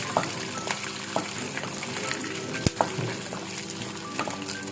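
Ingredients for tamarind rice frying in hot oil until browned, an even, close sizzle punctuated by a few sharp clinks and taps of a utensil against the pan.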